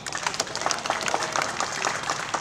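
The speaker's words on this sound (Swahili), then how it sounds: "Naomba tuwapigie makofi sana" An audience applauds at a public torch-race event, a dense steady patter of many hands clapping throughout, with some crowd noise mixed in.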